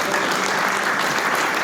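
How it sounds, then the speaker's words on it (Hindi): Brief burst of audience applause at a Hindi comedy poetry gathering, hasya kavi sammelan, dense and loud steady clapping from a crowd filling the short moment. "एक बार जोरदार तालियों से इस युवा का सम्मान"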